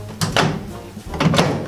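Microwave door swinging open to load a mug for microwave macaroni, with two close, brief clunks and clicks about a second apart.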